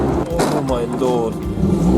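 A vintage car's engine drones steadily while driving on a single carriageway, with talk running over the continuous motor noise throughout.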